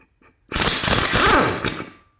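An impact wrench spins off wheel lug nuts on a 2011 Ford during a tire rotation. One loud, rattling burst of about one and a half seconds follows a brief quiet lead-in, then cuts off.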